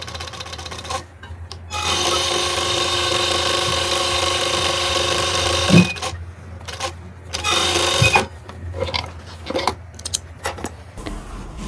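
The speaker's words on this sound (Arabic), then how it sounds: "طبعا هنعمل زي ما انتم شايفين احنا كده خلاص خيطناها" A sewing machine stitches the corner of a fabric cushion cover for a sectional sofa, a loud whirring run that stops and starts in several bursts with short pauses and handling noise between them.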